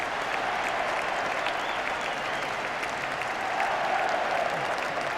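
Large stadium crowd applauding steadily as the FA Cup is presented to Manchester United after the 1996 final against Liverpool, a dense, continuous roar of clapping with murmuring crowd noise throughout.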